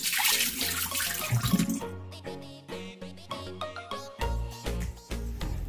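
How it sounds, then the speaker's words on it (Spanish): Beef pieces being washed under running tap water, a steady, close rush and splash of water that continues throughout, with a tonal ringing layered over it. "Comenzamos lavando la carne 2 o 3 veces para que quede bien limpia."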